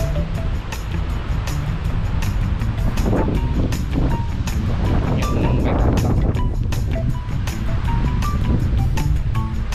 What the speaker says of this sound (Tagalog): lakas ng hangin hirap mag bike